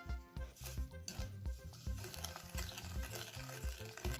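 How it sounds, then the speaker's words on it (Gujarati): Pickle mix of lemon juice, pickle spice masala and other ingredients stirred together in a bowl, a steady close-up churning and squelching that carries on without a break, with an even, busy rhythm. "સૌથી પહેલાં બધી સામગ્રીને મિક્સ કરી લઈશું"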